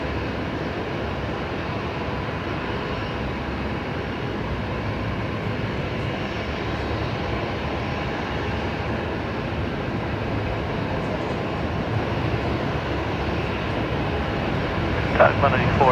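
A jet engine roars at Brisbane Airport as an aircraft takes off, a loud, steady broadband rumble that holds for the whole stretch, with air traffic control radio chatter in the background.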